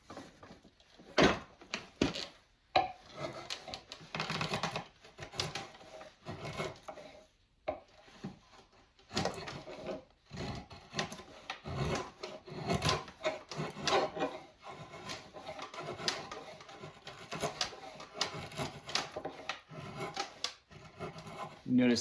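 A drawknife shaves across layered wood grain while shaping a handle, giving repeated scraping, rasping strokes in an irregular rhythm, close and fairly quiet, with short pauses between pulls.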